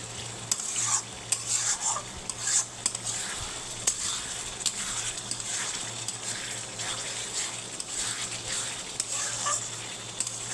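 Spices and aromatics are sautéed in a pan before cooked dal goes in, a continuous close sizzle under repeated spatula scrapes and knocks against the pan at an uneven, busy rhythm for the whole stretch.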